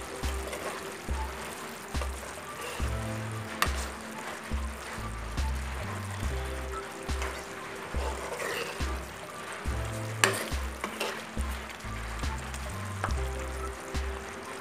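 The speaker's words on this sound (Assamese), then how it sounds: "এতিয়া লাইখন ভালকৈ অকণমান লৰাই দিওঁ।" Mutton with ginger and garlic is stirred in a pan for an Assamese curry, with a soft continuous sizzle and repeated low scraping knocks of the utensil against the pan throughout.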